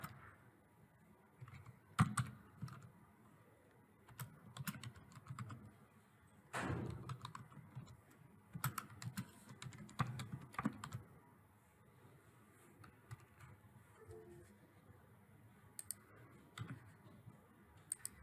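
Computer keyboard typing while entering text into an Excel spreadsheet: quiet, irregular clicks and taps close by, in short clusters with brief pauses, no voices.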